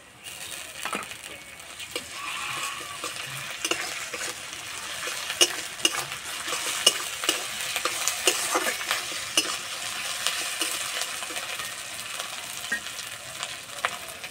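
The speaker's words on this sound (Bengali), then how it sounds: "পেঁয়াজটা হালকা লাল করে ভেজে নেব। এবার দেবো আদা রসুন বাটা" Onion fries with ginger garlic paste for an aubergine dish, a continuous close sizzle broken by frequent clicks and scrapes of a spoon stirring against the pan.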